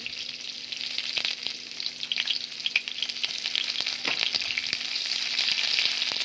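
Chopped onion fries in hot oil with panch phoron, a steady close sizzle with light crackles and occasional stirring clicks, and no voices.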